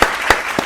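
A brief burst of audience clapping, a few distinct claps rising out of a soft wash of applause, fairly close and short.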